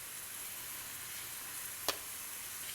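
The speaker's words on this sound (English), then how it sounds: "So now it's time for the lamb chops to join the party. And they just go straight into the pan." Kashmiri lamb chops sizzle in a frying pan, a soft, steady hiss of hot fat close by, with one brief sharp spit partway through and no talk.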